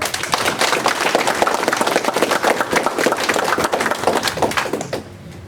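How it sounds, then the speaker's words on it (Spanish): Loud, dense applause from a conference audience, many hands clapping in a continuous crackling wash that fades abruptly near the end. "pido un fuerte aplauso para la ingeniera Rosalba de Jesús Hernández"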